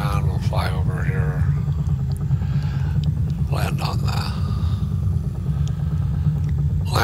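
Gyroplane engine in the X-Plane 10 flight simulator holding a loud, steady low drone that builds as the throttle opens, with someone talking over it.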